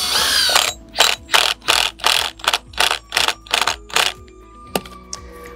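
Screws driven into a mounting bracket for an aluminum side-mount handrail post, heard as about eight short, evenly paced ratcheting bursts from a nearby drill, then a couple of isolated clicks.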